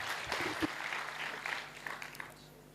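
Applause from the audience at a Hindi comedy poetry gathering, a moderate, fairly distant patter of clapping with a few sharper claps standing out, lasting under three seconds.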